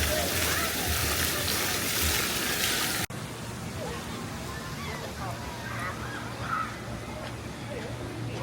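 Water sprays and splashes at a splash pad at Walt Disney World on a hot day, a loud steady hiss that cuts to quieter outdoor ambience with faint voices in the background.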